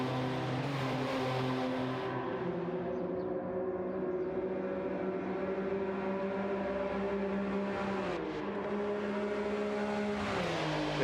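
Engines of Toyota GR Corolla race cars in a sim racing championship race, sustained droning and revving tones that shift pitch as the cars accelerate and brake, loud and continuous without any talk.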